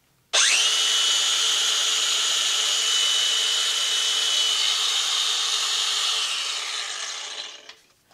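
A DeWalt DCG409VSB angle grinder set to speed level 6, about 9,000 RPM, spins up sharply and holds a loud, steady high whine for roughly seven seconds before winding down.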